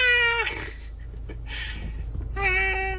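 A person imitates a cat with two drawn-out, meow-like vocal calls, one at the start and one near the end, close and clear, with quieter breathy sounds between them.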